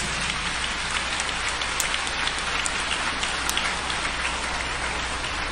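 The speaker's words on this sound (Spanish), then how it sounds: "Un aplauso para Monseñor Rolando José." Sustained applause from a congregation inside a church during an episcopal ordination, a dense steady patter of many hands clapping continuously throughout, with no speech over it.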